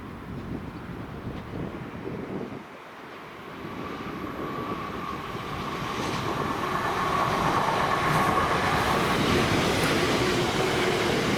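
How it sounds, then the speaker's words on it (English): A ScotRail Class 334 electric train passes at Bowling. A broad, steady rumble swells gradually and stays loud, with a faint hum running through it and no voices. "the 1851 ScotRail service to Yoker CS from Balloch with 334040 and 334038"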